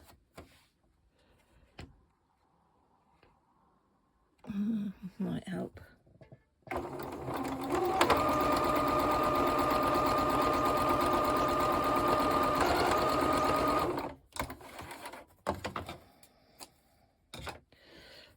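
A sewing machine stitches fabric in one long, steady, loud mechanical run of about six seconds, framed by quieter handling noises, clicks and brief speech before and after.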